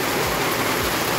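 Steady rain pours down, a dense, even hiss filling the whole moment with no breaks and no voices over it.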